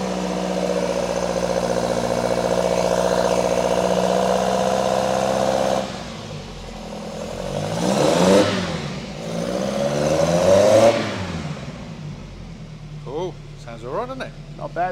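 A Lancia Fulvia engine that had sat unused for about three years runs and revs, a steady mid-pitched hum for several seconds, then rising and falling revs, with people talking over it near the end.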